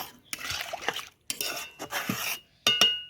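A spoon stirs thickened milk in a metal pot, giving several bursts of close scraping and clinking against the pot with short pauses between strokes.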